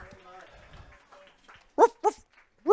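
During a softball game broadcast, a commentator's voice gives way to a dog's sharp barks: two quick, loud yaps close together, then a third starting as the sound ends.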